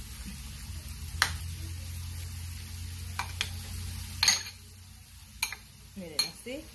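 Shrimp taco filling with salt being stirred in a pan, utensil scraping and clinking against the metal in a few sharp strikes over a low steady sizzle.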